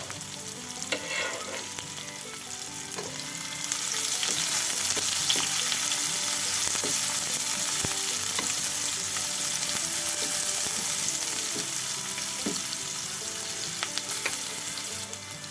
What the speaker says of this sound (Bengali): এখন দিয়ে দিচ্ছি 1 কাপ পরিমাণে পেঁয়াজ কুচি, সাথে দিয়ে দিচ্ছি কয়েকটা কাঁচামরিচ